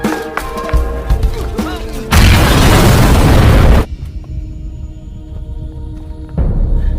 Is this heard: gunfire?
yes